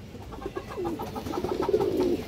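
A Muslodom male pigeon, a long-tailed fancy breed, gives a close, clear bout of rolling coos that swell and repeat for a couple of seconds, with no talk over it.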